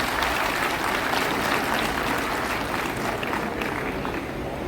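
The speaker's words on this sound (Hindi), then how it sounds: "जोरदार तालियों से।" Dense, steady applause from a large audience at a civil defence and home guards gathering, sustained loudly through the whole stretch with no talking over it.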